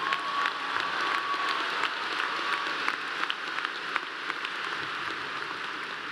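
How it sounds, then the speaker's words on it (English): A graduation ceremony crowd claps at Clemson's spring commencement, a soft, distant, even patter of many hands sustained throughout, with a few sharper claps poking through. "That deserves a round of applause."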